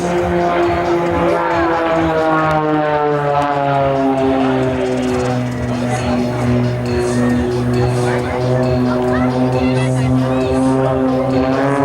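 A propeller aircraft performing aerobatics at the Stellenbosch airshow drones loudly and continuously, its engine pitch rising and falling as it passes close overhead, while a commentator talks over the public address.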